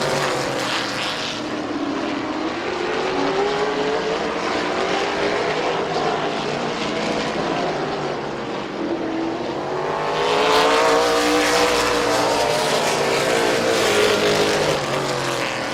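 Race cars at Midvale Speedway roar past in a loud, droning pack, engine pitch sweeping as they pass, easing briefly around the middle before a second surge of cars thunders by.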